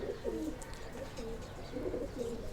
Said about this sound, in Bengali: আসেন আপনাদের এই যে উড়ানোর কবুতরগুলো